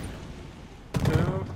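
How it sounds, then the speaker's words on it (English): A sudden burst of rapid video game gunfire erupts after a second of low background rumble, loud and close, with several shots run together. "That's gunfire!"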